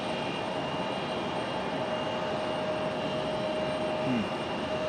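Boeing 767 departing at Raleigh-Durham International, heard as a faint, steady distant jet rumble with a thin whine riding above it, continuous and unbroken, no talking.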